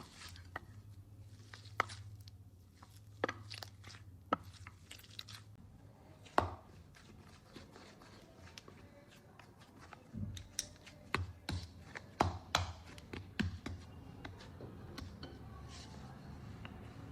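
Mashed potato being kneaded into semolina dough by hand, with soft sticky pressing and slapping sounds, scattered knocks and taps, and a low hum running through much of it.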